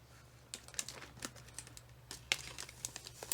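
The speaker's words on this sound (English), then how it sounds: "I'm going to try to do this without rattling cellophane too much" Candy is scooped into gusseted cellophane bags, giving soft, close crinkling and rustling with scattered sharp little clicks and taps at an irregular pace, fairly quiet against a low background hum.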